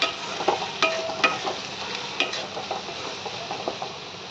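Aloo bhindi, potatoes and okra with spices, sizzles in a pan while a spatula tosses and scrapes it in quick irregular strokes, close and moderately loud throughout.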